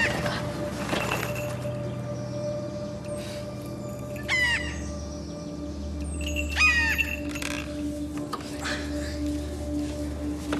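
A crow caws outdoors in two brief bursts of harsh, rasping calls, moderately distant, over a steady low hum and faint background noise.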